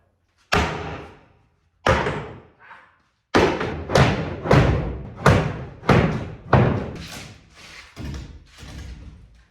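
Shelves boxed in inside an old 30-year-old shop are pried apart, giving about nine loud, heavy wooden thuds, spaced irregularly at first and then in a quick uneven run, each one ringing out briefly.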